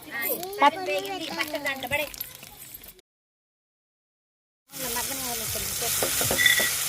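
Spices for tempering hit hot oil while a ridge gourd chutney is being made. Someone talks at first, then after a brief silence a loud, steady hissing sizzle takes over.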